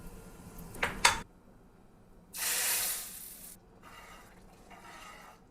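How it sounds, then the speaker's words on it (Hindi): Fresh ghee tadka with asafoetida, cumin and Kashmiri chili powder hitting a hot pan: short crackling bursts, then a loud sharp sizzle-hiss for about a second, fading into softer intermittent sizzling, with no talk. "मैं एक स्टेप और ऐड करती हूँ जो है फ्रेश घी के तड़के की"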